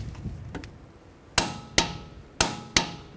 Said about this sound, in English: Now I'll torque these bolts to 65 foot-pounds.